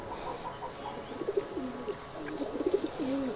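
A Giribaj pigeon coos softly in a few low rolling phrases, faint and close, over a quiet hissing background.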